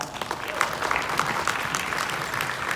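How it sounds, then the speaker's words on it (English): A conference audience at a women-in-tech event applauds the panelists. The clapping is steady and dense and holds at an even level throughout a short stretch. "A round of applause for them"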